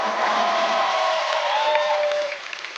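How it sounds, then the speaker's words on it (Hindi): A studio audience on a comedy talk show claps and cheers loudly and steadily, a dense wash of applause with whoops that eases off near the end. "तालियां जोरदार होनी चाहिए।"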